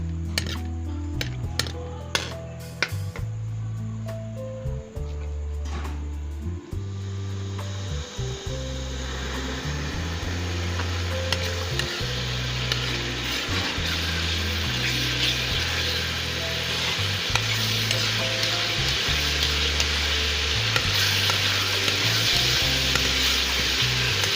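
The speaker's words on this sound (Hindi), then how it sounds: "लहसुन अदरक फ्राई हो गया" Oil sizzles loudly in a pan as garlic and ginger fry, a steady hiss building over low rhythmic thuds, close and continuous with no talking.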